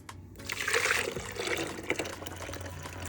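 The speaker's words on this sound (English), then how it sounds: "I'm going to go ahead and pour some of my watermelon juice in here" Homemade watermelon juice streams into a container, a soft, steady liquid pour heard close by that starts after a brief pause and runs to the end.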